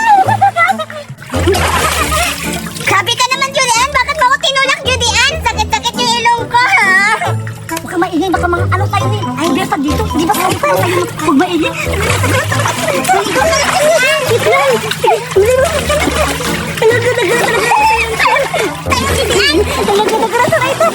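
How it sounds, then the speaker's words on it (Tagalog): Water splashes and sloshes in a swimming pool almost nonstop, loud and close, while children talk and shout excitedly over it. "Okay, dali, Julian, maliligo na tayo"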